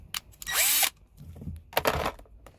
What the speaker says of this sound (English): And I have a step drill bit here.